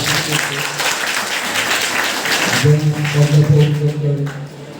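Audience applause in an auditorium, a steady wash of clapping from a crowd at moderate distance, with a voice speaking over it in the second half.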